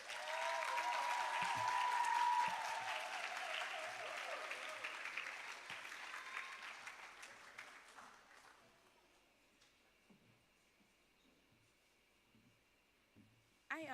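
Audience applause at the Alpha Junior School 2025 graduation ceremony, full and sustained at first, then tapering away over several seconds into a quiet hall with only scattered faint sounds.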